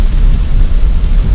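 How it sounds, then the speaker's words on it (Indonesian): Heavy rain pours onto a car driving on a highway in wet weather, a steady dense rush with low road and engine rumble underneath, continuous and close. "Cuacanya hujan sih. Iya. Dan lumayan deres nih hujannya."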